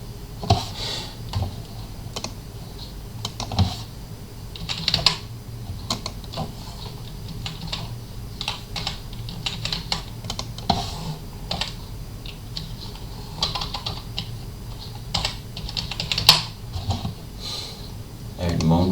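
Keys clatter on a computer keyboard while someone types in a text editor during a Rocky Linux setup, a close, uneven run of quick clicks with occasional louder strokes and a voice speaking at times.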